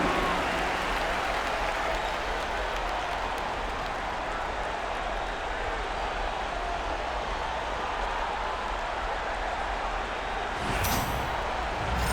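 Steady crowd applause and cheering in the NBA 2K25 basketball video game fill the whole stretch, a dense continuous roar with a brief sharper burst near the end.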